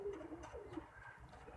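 Pigeons coo softly and repeatedly in low, rounded calls, faint against a quiet background.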